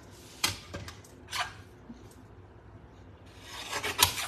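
Paper trimmer slicing cardstock at a crafting desk, a few short rasping cuts with a pause between, close and fairly loud, with no talking.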